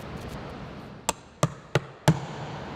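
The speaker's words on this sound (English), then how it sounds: "You can do this by using a wedge and a hammer," Four sharp metallic taps from a hammer driving a wedge to seat a Micronics filter cloth into a filter plate, evenly spaced and fairly close, over a quiet background.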